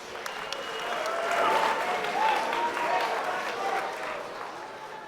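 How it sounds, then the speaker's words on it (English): Crowd applause at a boxing event for the fighters in the ring, moderate and fairly distant, swelling in the middle and then holding steady under a background murmur. "Can we please give the fighters in the ring a big round of applause?"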